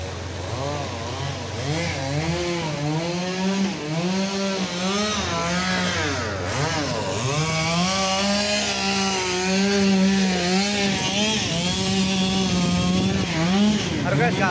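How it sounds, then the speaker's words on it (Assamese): A chainsaw cuts trees nearby, its engine droning loudly and rising and falling in pitch without a break, with people talking faintly underneath. "গাছ কাটি আছে কাৰণে চাউণ্ডটো অলপমান বেয়া পাব"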